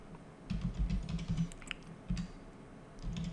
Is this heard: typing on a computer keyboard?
yes